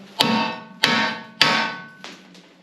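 Three sharp metallic hammer taps, evenly spaced and close, each ringing briefly, followed by two fainter knocks, while dismantling a seized K750 motorcycle.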